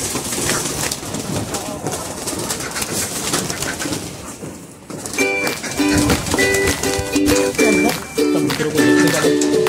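Several pet pigeons coo in low, rolling bursts at feeding time, close by and overlapping, over a background of rustling and scattered noise.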